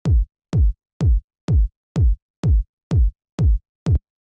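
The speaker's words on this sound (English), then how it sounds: "first sound we have here is the kick" Nine deep, punchy 909-style house kick drum hits play alone at a steady even pulse, each a loud thump with a quick decaying boom.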